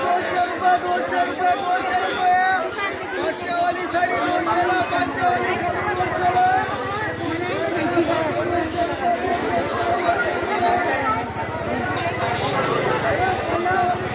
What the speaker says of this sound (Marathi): तर खूप गर्दी आहे फ्रेंड्स आज.